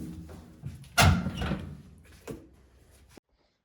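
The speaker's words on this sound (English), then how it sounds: "And then the door just pulls off." A small painted cabinet door is pulled free of its hinges during restoration, making a loud, sharp knock and scrape, followed by a second fainter bump and then silence.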